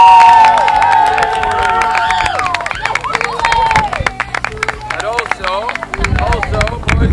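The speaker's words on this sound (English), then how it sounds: "I want to give a big, massive round of applause for Pooley and Gemma" A group on a camping trip breaks into cheers, whoops and clapping, lively and close, with overlapping voices shouting over the applause throughout.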